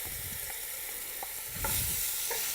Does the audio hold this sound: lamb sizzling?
yes